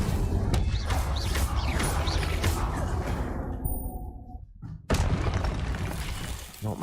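An Incendio fire spell from Hogwarts Legacy erupts with a loud crashing, shattering burst amid swirling magical whooshes, fades away, then a second sharp blast follows.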